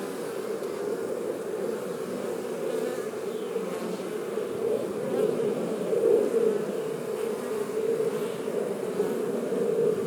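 Honey bees swarm around an open hive while a frame is lifted for inspection, making a dense, steady buzzing drone up close that swells slightly midway and never lets up.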